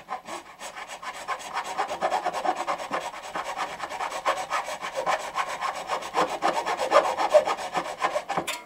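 A metal file rasps steadily on guitar fret material, close and continuous with a rough scraping rhythm of quick strokes throughout, no voices.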